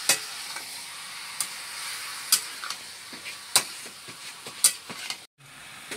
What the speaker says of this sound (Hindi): ये अभी चिकन बन रहा है